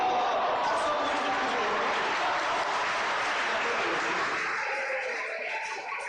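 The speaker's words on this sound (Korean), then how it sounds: "박수 한번" A church congregation at a wedding service claps in sustained, dense applause, a steady wash of many hands that holds evenly and then begins to thin toward the end.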